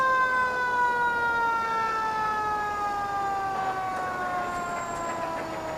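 Hook and ladder truck Engine 1 of the Fergus Falls Fire Department sounds its siren during a summer festival parade, a steady wail with tones sliding slowly downward, moderately loud and mixed with faint crowd noise.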